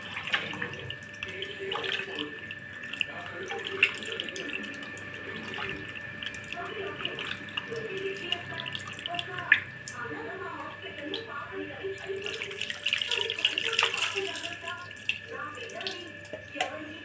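Water is poured while preparing a tamarind fish curry, a steady faint trickle that runs through the whole stretch with some kitchen clatter.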